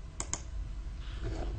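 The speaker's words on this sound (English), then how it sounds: "click on F3 on your keyboard" Two quick, crisp key presses on a computer keyboard, close and distinct, followed by faint room noise.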